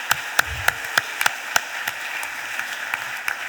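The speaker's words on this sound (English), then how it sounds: "Can we please give them a round of applause" Sparse, scattered clapping in a Philadelphia City Council meeting chamber, a few distinct hand claps spaced irregularly and fading out rather than a full ovation.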